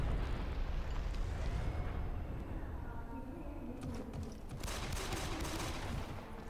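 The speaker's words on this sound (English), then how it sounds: "There was a grenade. There's another grenade." Gunfire bursts and blasts from grenades sound in the online shooter Ghost Recon Phantoms, on the Gardens of Death map, as fairly faint, dense rattles and thuds that swell again toward the end.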